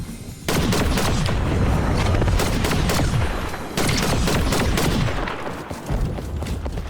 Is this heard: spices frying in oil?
no